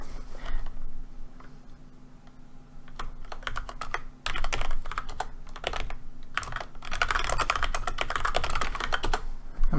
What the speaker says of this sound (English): I'm going to mute my mic so you don't have to hear me typing.